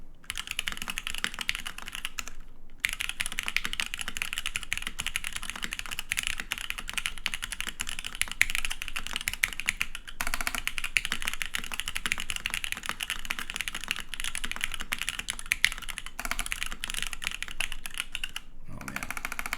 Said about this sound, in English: Clickety clacking, man